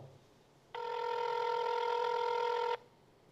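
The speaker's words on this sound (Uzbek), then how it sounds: "Gudok ketyapti." A single steady electronic ringback tone sounds for about two seconds, clear and moderately loud, with quiet line hiss before and after.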